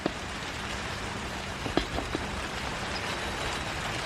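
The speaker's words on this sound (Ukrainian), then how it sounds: "навіть коли ось на вулиці дощ" Steady rain patters outside a garden greenhouse, a dense even hiss of drops with a few louder individual drips near the middle, no voices.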